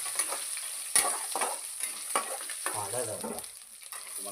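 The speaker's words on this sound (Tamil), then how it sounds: "கருவேப்பிலை, எப்படி பொரியுது பார்த்தீங்களா?" About five sprigs of curry leaves fry in hot oil as a tempering for fish curry, making a close, crackling sizzle broken by sharp pops and stirring scrapes.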